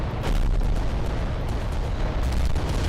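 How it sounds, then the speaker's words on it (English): Volcano cannons from Titan war machines fire in the Adeptus Titanicus: Dominus strategy game, a dense barrage of booming, crackling blasts that rumbles continuously and loud for the whole stretch with no talk. "It's mainly the volcano cannons that are going to do most of the damage anyway."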